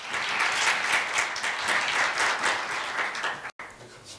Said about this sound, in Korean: 큰 박수로 부탁드리겠습니다.